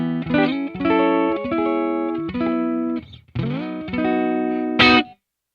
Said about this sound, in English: Back to single coil sound, my neck pickup.